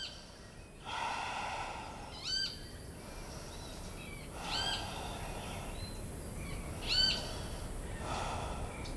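Three deep breaths taken in a yoga downward dog pose, each a close, airy inhale and exhale with short nasal, snorting edges, spaced a couple of seconds apart and heard alone over quiet room tone.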